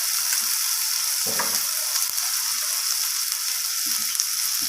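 Garlic and spices sizzle and fry steadily in hot oil for rohu fish curry, with a constant hiss and a few scraping stirs of the spoon against the pan, close up and without talk.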